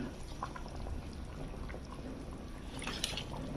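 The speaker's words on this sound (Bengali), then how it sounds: "এখন মাছটা ঢেলে দেব।" Fried hilsa fish with roe poured from a container into a cooking pan, giving a soft, close, continuous rustling pour with faint wet trickling and a brief clatter near the end.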